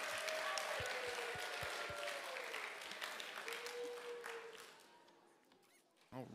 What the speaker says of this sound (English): let's give a big round of applause to the Friendship Christian School class of